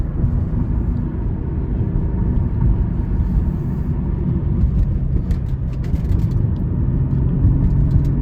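A 1993 Ford Probe GT on the road, its engine rumble and road noise steady and close from inside the car, rising slightly in pitch as it revs up through a corner, with no talking.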